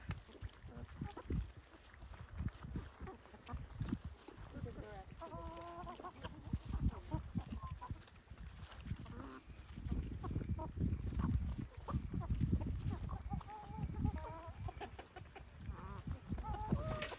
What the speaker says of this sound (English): Even the chickens are in on it.